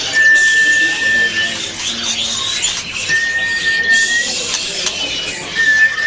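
A spotted Medan magpie robin (murai) whistles in repeated thin, high notes, close and fairly loud, set against background chatter and rustling.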